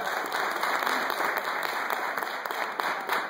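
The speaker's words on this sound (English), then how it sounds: "Why don't you clap if you think C.S. Lewis won?" Audience applauding during an informal show-of-hands vote at a live talkback after a play, steady dense clapping filling the room throughout, fairly loud with a few faint whoops.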